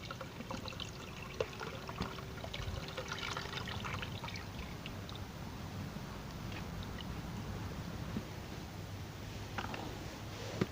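Strained water, sieved free of leftover rice, pours steadily and continuously into a 20-liter bucket, a close, unbroken splashing rush with no talk.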